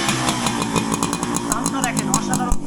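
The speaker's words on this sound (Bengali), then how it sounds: "এখন আমরা গাড়িটি অন করবো। সাউন্ডটা শোনেন, সাউন্ডটা দেখেন কতটা স্মুথ বা স্মুথ।" A modified Honda CDI 100cc motorcycle engine idles with a steady, even, buzzing putter up close, running continuously throughout the short stretch.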